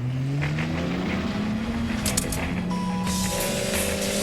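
Car engine roaring and revving, a steady mid-level drone with rising and falling pitch, joined by sharper bursts and tonal whines near the end.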